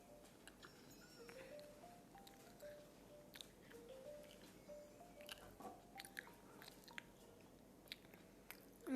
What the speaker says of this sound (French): vous entendrez des croquements